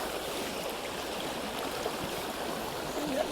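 White water rushing over and around boulders on a salmon and sea trout river, a steady, close, broadband roar of turbulent flow that holds constant without a break.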